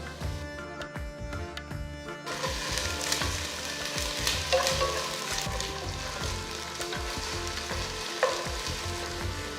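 Ginger garlic paste added to golden fried onions in a hot pan sets off a loud, bright sizzle that begins abruptly after a couple of seconds of quieter stirring, then continues crackling under occasional stirs.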